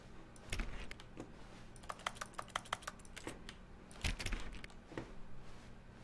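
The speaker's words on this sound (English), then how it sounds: "I'm still making keyboard noises." Rapid keyboard typing clatter from the video game The Stanley Parable, irregular clusters of light key clicks over a steady faint background hum, no talking.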